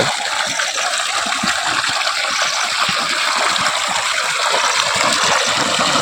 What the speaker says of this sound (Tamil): தண்ணீர் இறைக்கும்போது